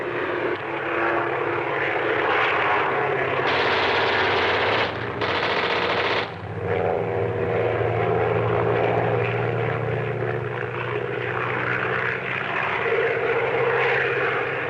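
A propeller airplane in flight, an old-style plane with a strut shot away, roars loudly and steadily throughout, with a harsh rattling texture and brief louder bursts.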